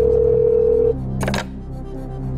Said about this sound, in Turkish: telefonu çalıyor Metin Değer.